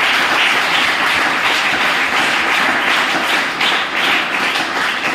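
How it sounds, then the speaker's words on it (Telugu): A church congregation claps to praise God in a loud, dense, unbroken burst that stays close and even throughout, with no voices. "చప్పట్లు కొట్టి దేవుని నామాన్ని ఘనపరుద్దాం"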